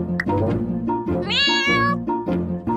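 Cartoon kitten meowing: a series of high, expressive meows in quick succession, one drawn-out rising cry in the middle, clear and close with no talking.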